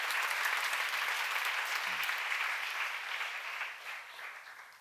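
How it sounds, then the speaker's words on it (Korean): A congregation at a church seminar claps together, dense steady applause that holds strong before gradually fading toward the end. "박수로 하자."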